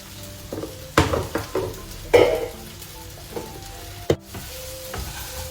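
Spiced chili rice is stirred in a hot pan, with a low, continuous sizzle broken by several sharp scrapes and clinks of the spoon against the pan, heard up close.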